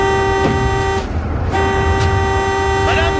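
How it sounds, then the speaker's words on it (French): A car horn honks loudly with a steady held tone, broken by a short gap near the middle, over busy street and traffic noise. "Et ne t'arrête pas de klaxonner."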